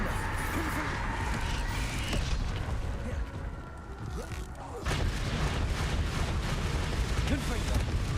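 Repeated fire-blast spell explosions in Hogwarts Legacy on hard mode, a dense rolling barrage of booms and crackling blasts that dips briefly before surging again, with no voice.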